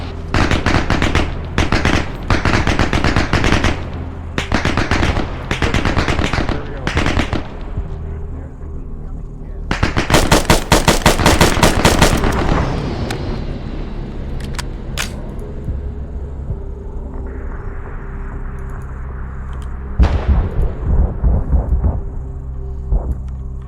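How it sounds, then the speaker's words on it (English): Aircraft gun runs and explosions in a military video game: bursts of rapid, heavy gunfire, then a loud blast that rolls into a long rumble, and another sharp volley of fire near the end. "that was a gun run on the Turks and the base off to our east"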